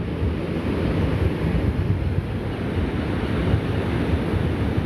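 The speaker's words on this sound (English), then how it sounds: "back to the breaking waves of the beautiful Pacific Ocean" Pacific Ocean waves breaking on a beach, a steady, dense low roar of surf with continuous wash and wind buffeting, no voices.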